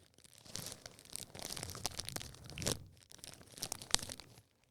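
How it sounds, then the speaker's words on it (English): Close, irregular crinkling and rustling of a plastic bag in several bursts, no talking. "I'm putting your teeth inside of the plastic bag."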